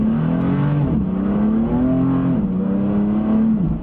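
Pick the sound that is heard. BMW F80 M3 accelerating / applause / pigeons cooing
BMW F80 M3 accelerating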